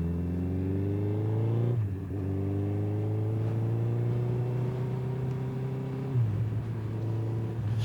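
A Suzuki Hayabusa four-cylinder motorcycle rounding a corner hums smoothly and evenly, its engine pitch rising in long sweeps and dropping briefly twice as the rider shifts.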